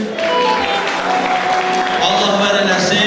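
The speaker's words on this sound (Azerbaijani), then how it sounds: "Bizə gözəl gürültülü alqışlar istəyirəm sizlər üçün." A crowd of an audience claps loudly and continuously at a gathering, a dense sustained burst of applause right after an announcer's introduction, with a voice faintly mixed in.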